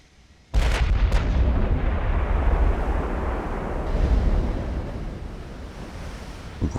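Naval gunfire in the warship game Ultimate Admiral: Dreadnoughts opens with a sudden loud boom, then a long rolling rumble with sea and wind noise that slowly fades.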